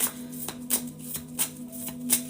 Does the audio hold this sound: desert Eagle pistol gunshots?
no